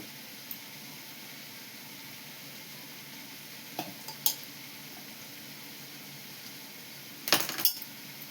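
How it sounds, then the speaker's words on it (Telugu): Chicken bones fry in a pan with a faint, steady sizzle. A few louder clinks of a utensil against the pan come in brief bursts near the middle and end. "ఇది ఇలా ఫ్రై చేసేసుకుందాం, బాగుంటుంది"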